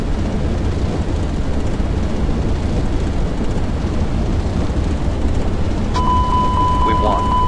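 An Airbus airliner on its takeoff roll in a flight simulator game gives a loud, steady engine roar that continues throughout, with a brief tonal beep near the end.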